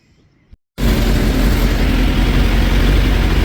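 A 2006 Suzuki GSX 600F Katana motorcycle engine idling steadily and loudly after a brief quiet gap, a smooth continuous low rumble with no talking.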